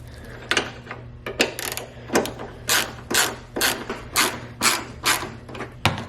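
A ratchet wrench with a 12 mm socket loosens radiator bolts on a Lexus SC300 with a 2JZ-GE engine, giving about a dozen close, crisp bursts of clicking in an uneven rhythm.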